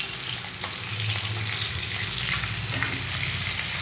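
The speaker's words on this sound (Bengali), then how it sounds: "বাটা মাছটা ভাজা কড়া করে" Bata fish fries crisp in hot oil in a home kitchen, giving a steady, close sizzle with faint stirring and crackle throughout and no talking.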